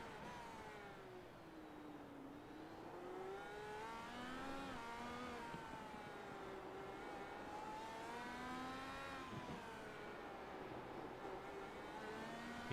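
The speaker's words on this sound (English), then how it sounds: "You hear the car bouncing off the asphalt there underneath the roller coaster ride." An IndyCar engine in the iRacing video game at Long Beach drones continuously, its pitch rising and falling as it revs and shifts, the car bouncing over asphalt, at a steady moderate level with no voices.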